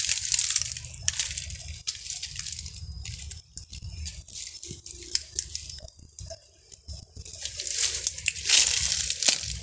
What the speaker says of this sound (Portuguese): acho que tem um córrego aqui